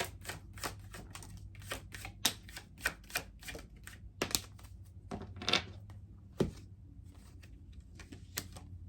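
Tarot cards being shuffled and drawn, a run of sharp slaps and riffles in an irregular rhythm, close and fairly quiet over a low steady hum, with no talking.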